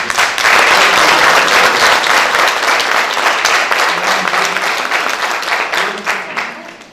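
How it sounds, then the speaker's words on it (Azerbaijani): A school audience applauding at a jubilee celebration for a composer's 90th birthday, dense loud clapping that rises quickly, holds, then slowly thins out over several seconds. "Bir də mən məktəbimizin gözəl kollektivini alqışlamamızı istəyirəm."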